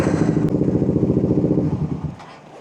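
A Suzuki GSX 150 motorcycle fitted with an aftermarket exhaust on a stock ECU idles roughly with a close, loud, pulsing putter, then sputters and fades as the engine dies.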